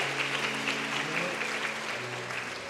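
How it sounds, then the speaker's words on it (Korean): Church congregation at a Sunday afternoon service applauding two deacons receiving commemorative plaques for hand-copying the entire Bible, with a dense, steady burst of clapping. "박수 보내주시죠."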